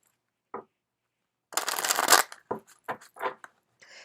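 Tarot cards are shuffled close up: a single soft flick, then a longer riffling burst followed by several quick, papery shuffles and taps, with no talking.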